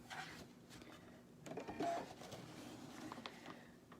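Sewing machine stitching a full circle with a circular attachment fitted to the stitch plate, a steady mechanical whir running close and fairly quiet, swelling briefly louder midway.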